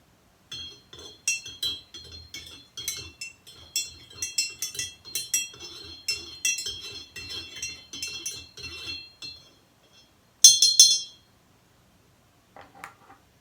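A spoon clinks repeatedly against a glass while blended whiskey is stirred, giving rapid bright tinkling in bursts, with a louder flurry near the end before it falls quiet.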